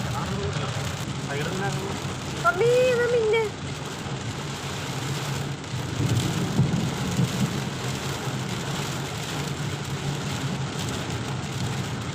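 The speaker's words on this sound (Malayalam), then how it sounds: "ഭയങ്കര മഴയാണ് മഴയും കാറ്റും" Steady heavy rain and wind pour down with a constant hiss, low rumbling beneath it, and a voice speaks briefly early on.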